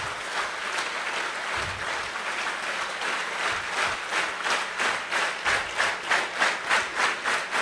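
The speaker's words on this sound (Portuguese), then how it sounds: "eu quero que vocês batam palma e comecem a sincronizar as palmas" A large conference audience of nearly a thousand people applauds, starting as dense scattered clapping that gradually locks into loud, rhythmic unison claps toward the end.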